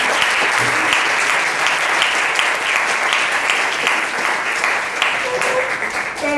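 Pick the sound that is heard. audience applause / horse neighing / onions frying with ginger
audience applause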